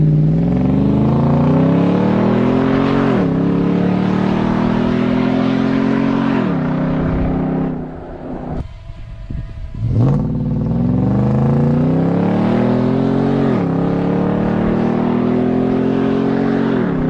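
A car is driven hard, its engine revving loud and close in repeated rising sweeps with gear changes, briefly dropping away mid-run before pulling strongly again.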